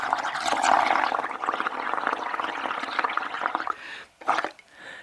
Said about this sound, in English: I'm just going to blow a bunch of bubbles